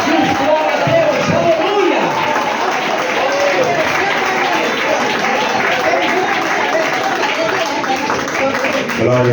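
A church congregation at a mission service claps and cheers continuously and loudly, with a dense wash of applause mixed with voices throughout.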